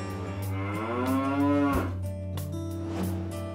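Brown and white cows on a farm let out a long, loud, drawn-out moo close by, followed by another lower moo and soft farmyard background noise.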